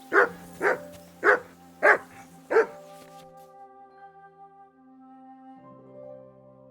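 A dog barking in Kingdom Come: Deliverance II, five loud evenly spaced barks at close range, followed by a soft sustained musical tone after the barking stops.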